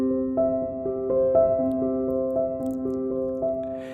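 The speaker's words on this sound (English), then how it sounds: "use the pedal if you have one. This will blend the notes beautiful together." Piano chords held with the sustain pedal down, so each chord rings on and blends into the next in a smooth steady progression, close and moderately loud, no voices.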